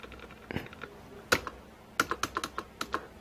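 Computer keyboard keys are tapped during data entry in Tally ERP 9, with a few isolated presses followed by a quick burst of crisp, close clicks in a quiet room.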